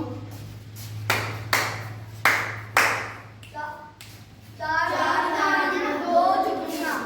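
Children in a primary classroom number activity clap and snap their fingers, giving four or five crisp claps in quick succession followed by lighter snaps, then voices talking over a steady background.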